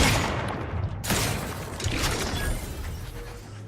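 Enemy gunfire in The Outer Worlds 2, on the moon of Praetor: a burst of shots lands around 1 second, then scattered, fairly close reports over a steady game ambience, with no talking.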